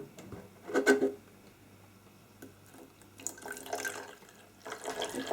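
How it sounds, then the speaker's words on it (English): Cold water poured into a bowl with caster sugar for low-protein sweet pastry, a soft trickling splash in a short burst, then quieter scattered pouring and drips in a still kitchen. "And into that I'm going to add 60 mils of cold water."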